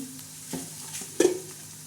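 Spices crackle and sizzle in hot oil for a tadka while sprouted-bean usal is being made, with a steady frying hiss, a few sharp pops and a louder burst of spattering near the end, heard close up with no talk.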